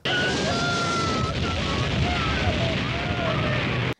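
A dense, roaring blast of noise with deep rumble holds steady for several seconds, with faint whistling tones riding on top, then cuts off abruptly.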